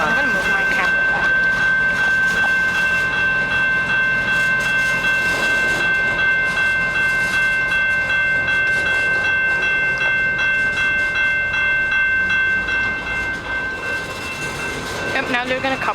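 A Canadian Pacific train moves through the yard at Pitt Meadows with a constant heavy rumble, clanking cars and a thin sustained wheel squeal, loud and close throughout, while people talk nearby.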